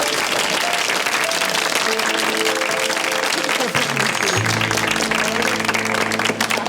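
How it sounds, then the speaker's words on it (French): Studio audience applause on a game-style show, loud continuous clapping filling the room, with music tones rising underneath partway through. "J'aime bien les applaudissements pour rien comme ça"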